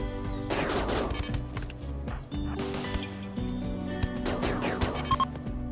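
Automated turret gunfire during a raid defense in RimWorld Odyssey, coming as rapid bursts of shots over a steady layer of game music and ambience, loud and close.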